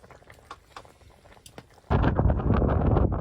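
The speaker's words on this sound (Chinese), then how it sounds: "但是山上突然起风了，而且风还不小" A strong wind suddenly picks up on a snowy mountain (Haba Snow Mountain) base camp at dusk, striking about halfway through as a loud, steady, broadband roar and buffeting against the microphone after quieter rustling.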